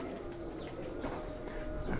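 Ferozpuri and Faqeergull mix-breed pigeons, including Surkha birds, coo softly and continuously in a loft, with low, faint, rolling calls close by.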